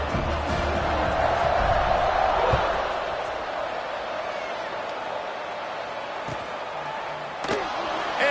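Stadium crowd roar swells during a college football kickoff in a tied fourth quarter, a broad sustained cheer with a thud near the start, then easing into steady crowd noise.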